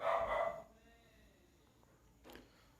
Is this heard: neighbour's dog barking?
yes